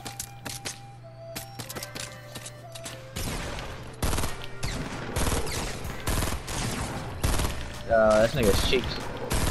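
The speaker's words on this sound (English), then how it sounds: "He shot me with that shotgun shot." Rapid shotgun and weapon fire in Fortnite during a duo squads match, a dense string of loud blasts and clattering shots with a player's voice talking over the gunfire.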